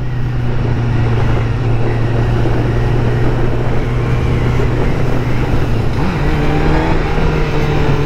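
BMW S1000RR motorcycle engine droning loud and steady while riding at Daytona Bike Week, with a held engine tone that shifts in pitch near the end, under heavy wind rush.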